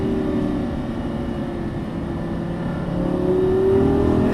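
A Lamborghini Gallardo Superleggera LP570-4 engine drones steadily on a race track, a close, continuous roar that swells slightly louder toward the end, with no voices.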